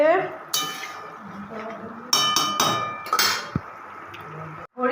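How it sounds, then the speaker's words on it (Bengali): Goat meat being stir-cooked in a pot, with a metal spoon scraping and clanking against the pot in irregular bursts over a steady background. A few loud clinks stand out near the middle, with no talk. "খাসির মাংস এই যে খাসির মাংস কষা হচ্ছে"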